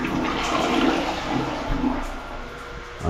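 A functional water closet in a bathroom under renovation flushes, a loud, close rush of water swirling and draining for about three seconds.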